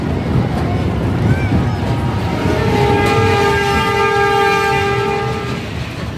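A kids' dragon train ride rumbles along loudly and steadily, and a long sustained horn or whistle tone sounds through the middle. Voices can be heard faintly under the noise.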